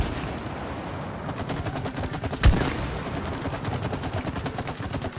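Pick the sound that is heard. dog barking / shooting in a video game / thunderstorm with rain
shooting in a video game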